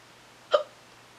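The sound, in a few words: hiccups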